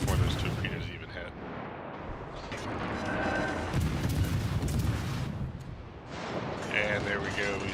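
Naval gunfire in World of Warships: Legends from a Mahan destroyer, heavy booming salvos rolling steadily through the whole stretch alongside continuous game noise and a talking voice.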